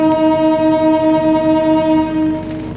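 A KA Singasari train at Cirebon Kejaksan station sounds a loud, sustained horn blast with a rich, steady harmonic tone that holds for nearly three seconds before easing slightly at the end.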